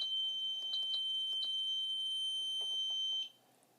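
A Switchglo Pro controller at low throttle gives a loud, steady high-pitched electronic tone that holds for about three seconds and then cuts off, with faint clicks underneath.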